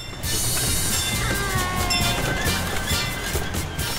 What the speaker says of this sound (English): I'm here on the Pioneer Train, one of the favorite rides here at Knoebels.